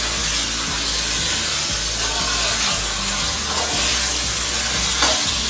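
Chicken for pulao fries in a pan, a loud, continuous sizzle with scraping and stirring strokes recurring every second or so, close up and without talk.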